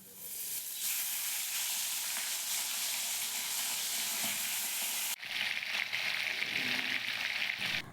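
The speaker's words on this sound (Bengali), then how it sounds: "তেল গরম হয়ে গেছে, এর মধ্যে আমি মাছগুলো দিয়ে দিলাম।" Pomfret fish frying in hot oil, a loud, steady, broadband sizzle that holds without a break for the whole stretch, with a brief dip midway before the crackling hiss resumes.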